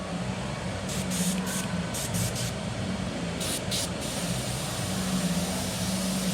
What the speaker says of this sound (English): hopefully your spray gun's not acting up as much as mine is